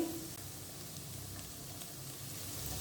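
Sliced bitter gourd sautéing in hot oil in a pan gives a soft, steady sizzle that stays fairly quiet and even throughout, with no voices.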